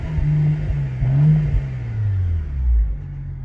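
BMW 335i E92 with a Milltek exhaust, the engine revved several times in short rising and falling bursts, loud and close with a deep exhaust tone, no talking.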